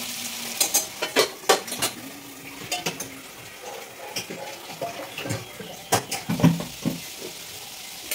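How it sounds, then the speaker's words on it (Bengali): Potatoes fry in a pan while a utensil stirs them, giving a steady sizzle broken by repeated scraping and clinking strokes, close and clear with no talking. "হয়ে গেছে আমার আলু ভাজাটা।"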